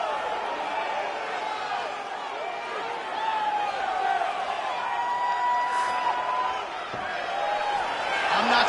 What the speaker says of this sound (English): I'm not sure I have ever heard a louder crowd in any arena in the world than this here Bell Center in Montreal, Quebec, Canada